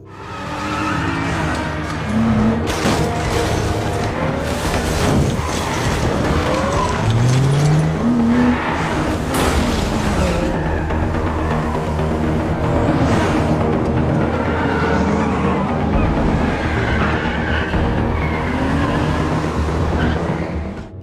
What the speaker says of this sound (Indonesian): Vincent dan Thomas melihat di situ ada mobil mewah dan mencoba untuk mengendarainya hingga membuat tempat di sana berantakan.